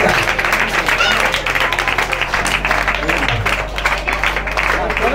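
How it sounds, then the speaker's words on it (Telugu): A group at an orphanage in India claps their hands together in a loud, steady, rapid patter, with voices talking and calling over the clapping and a low hum underneath. "గట్టిగా చప్పట్లు కొడదాం."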